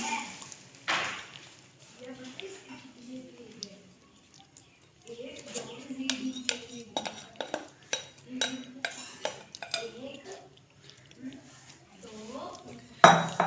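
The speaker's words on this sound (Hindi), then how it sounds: "अब इसको हम पैन लेके लेंगे, उसे गर्म करने के बाद उसे हमें पैन के अंदर डाल देंगे।" Soaked semolina goes into a pan on the stove, with scattered clinks and knocks of pan and utensil and soft scraping, while someone talks intermittently over the kitchen clatter.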